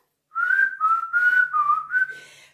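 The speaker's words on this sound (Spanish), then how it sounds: "Y recuerden silbar, chiflar." Someone whistles a short tune of five or six clear notes, close and alone, each note held briefly with small pitch slides.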